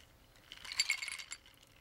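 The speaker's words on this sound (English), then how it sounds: "Ice cubes." Ice cubes clink in a glass in a short, bright cluster of light rattling taps, close and fairly quiet, with no talk over them.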